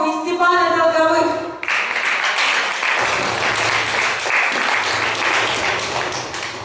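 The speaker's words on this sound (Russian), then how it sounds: "я приглашаю под ваши аплодисменты Дарью Ермакову и Степана Долговых" A speaker's voice gives way to a burst of audience applause at a business forum event, with full, even clapping continuing steadily to the end.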